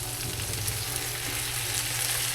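Pansit sizzles loudly in a pan as soy sauce and seasoning go in, a continuous, even frying hiss with no talking.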